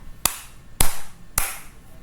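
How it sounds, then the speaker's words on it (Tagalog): Three sharp claps spaced about half a second apart, crisp and close, standing alone against a quiet background. "Bigyan nyo ang inyong sarili ng tatlong palakpak."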